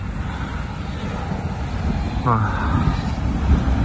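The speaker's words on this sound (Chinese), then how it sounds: "打雷下雨了，竟然！" Wind and a night thunderstorm outside a small camper van: a constant low roaring gust noise and rumble buffeting the vehicle, growing slightly stronger, with a brief startled exclamation from a person inside.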